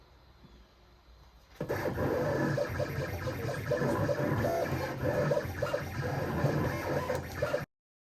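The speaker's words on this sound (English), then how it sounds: "I'll send it to the cutter." A vinyl cutter slices printable sublimation heat transfer vinyl, starting after a quiet second and running with a steady mechanical whir and shuffling carriage movements until it stops abruptly.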